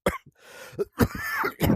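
Several close, dry coughs and throat-clearing bursts come from someone while shaving in a VR game. They arrive in uneven bursts with brief gaps, alone and without talk.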